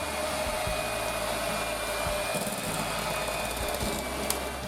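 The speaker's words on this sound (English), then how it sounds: "we're going to add our pineapple. And we're going to give it another good whisk for about 2 to 3 minutes." An electric whisk runs steadily as pineapple is mixed into an ice cream base, giving a continuous, fairly loud motor whir with a thin high whine that holds the whole time, with no talking.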